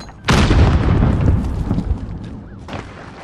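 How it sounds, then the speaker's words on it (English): A single loud grenade blast in Call of Duty Modern Warfare multiplayer, a sudden heavy boom that rolls off into a long fading rumble with faint debris and gunfire after it. "Grenade out!"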